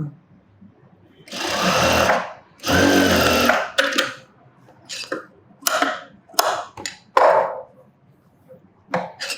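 A sewing machine stitches fabric during a tailoring lesson, running in two long loud bursts followed by several shorter, choppy runs with brief pauses between them, close up with faint talk in the background.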